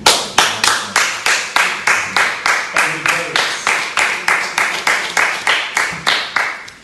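A small audience at a live talk-show taping claps in a steady unison rhythm, roughly three sharp claps per second, loud and close, with faint chatter underneath.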